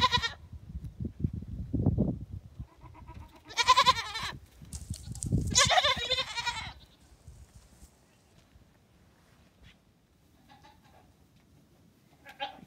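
Goats on a farm let out several loud, close bleats in separate bursts, with hoof-like shuffling and quieter stretches between, and a few faint calls later on.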